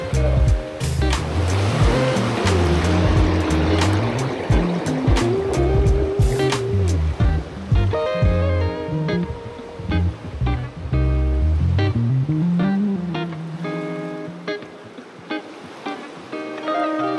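Rushing river water flowing steadily near a wilderness fishing spot, a broad continuous wash that stays loud throughout and fades slightly toward the end.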